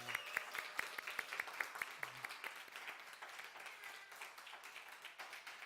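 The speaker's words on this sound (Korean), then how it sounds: "박수가 끊이지 않네요" Church congregation clapping at a Sunday worship service to congratulate a student, with sharp, distinct claps at first that blend into steady, sustained applause.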